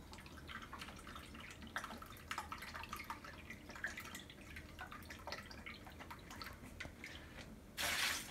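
Soy sauce being poured into a bowl, a faint liquid trickle with small splashes and drips at low volume that ends in a short burst of louder splashing, no talk.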